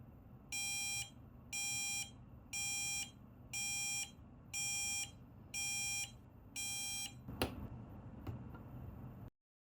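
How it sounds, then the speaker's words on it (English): Seven evenly spaced 800 Hz electronic buzzer beeps, each about half a second long, in a steady rhythm, followed by a couple of soft clicks. "This alarm is used to signal the user when it's time to drink water."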